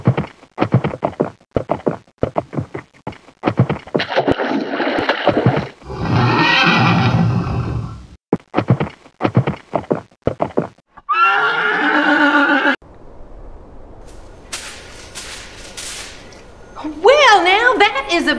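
Horse whinnying loudly at close range with a harmonic, wavering call near the end, following clip-clop, footstep knocks and someone talking at a Kansas swing station on the Pony Express route.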